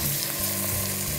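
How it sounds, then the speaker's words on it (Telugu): Sliced onions frying in a pan while cooking a Telugu gongura mutton curry with red chillies, a steady close sizzle that runs unbroken and fairly quiet through the moment. "ఈ ఉల్లిపాయల్ని కొంచెం సేపు చక్కగా వేగనివ్వండి"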